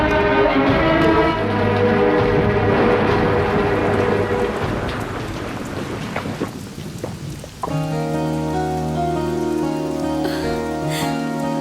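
Heavy rain pours down with rolling thunder in a dramatic film scene, then the downpour thins as sustained musical tones swell in and carry on beneath the lingering rain.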